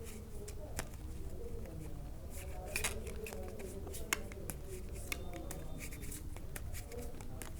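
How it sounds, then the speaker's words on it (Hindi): Tarot cards shuffled by hand produce quiet, irregular soft riffles and sharp little clicks over a low background murmur, fairly close and continuous. "शफलिंग जारी है, जैसा कि हमने कहा कि एनर्जाइज करने के लिए कार्ड्स को शफल किया जाता है दोबारा से"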